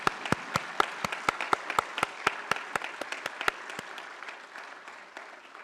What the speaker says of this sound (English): Let us clap to welcome our retired senior officers.